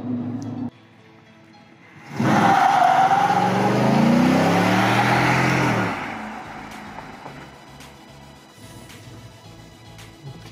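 A GMC Sierra AT4 pickup with a 6.2L V8 and an S&B cold air intake makes a rolling launch, breaking traction briefly: a sudden loud surge of engine roar and intake noise lasting a few seconds, then easing to a lower steady drive.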